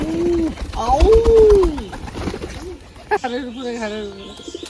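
Pigeons at a home loft coo and call while a person talks to them, the birds' low calls rising and falling close by and overlapping the speech, with parakeets also calling in the background.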